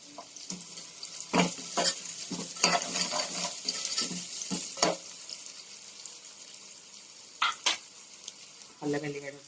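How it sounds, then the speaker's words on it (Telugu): Onions and green chillies frying in a home kitchen pan for a soya bean curry, giving a steady sizzle with repeated scraping and stirring clatters of a spoon against the pan. "వేగుతుందండి, ఉల్లిగడ్డలు వేగుతుంది."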